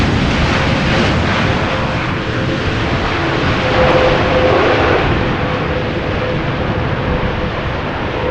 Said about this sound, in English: This is KLM flight 758 787-10 Dreamliner returning from Panama City.